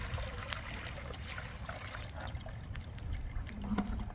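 Liquid bacteria poured into turtle tank water, a steady trickling, splashing pour running close and continuous for several seconds with no talk over it.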